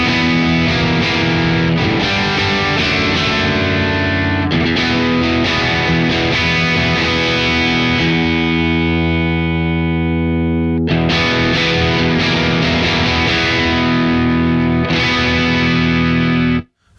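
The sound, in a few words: electric guitar through Friedman Twin Sister amplifier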